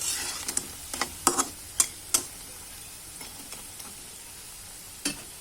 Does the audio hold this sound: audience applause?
no